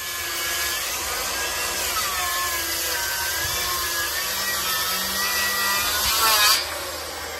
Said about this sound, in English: I'm going to run a circular saw blade down the middle to give me a line